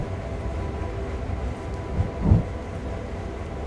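A train rolls through Cumberland Yard in the video game Train Sim World 3, a steady low rumble of wheels and cars with a brief heavier clunk midway.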